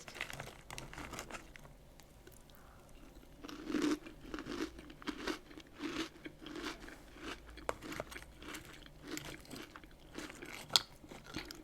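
Crunchy breakfast cereal chewed close to the mic, soft, irregular crunching and crinkly bites that come and go at a steady eating pace, with no talking.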